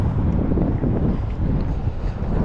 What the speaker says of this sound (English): Still got the wind on us.